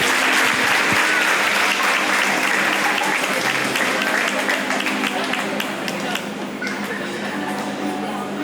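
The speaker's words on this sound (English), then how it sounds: "a round of applause for our lovely ladies as they make their way back into the stage" Steady, dense applause from a large audience at a county fair queen contest, loud and sustained throughout with a faint voice briefly underneath.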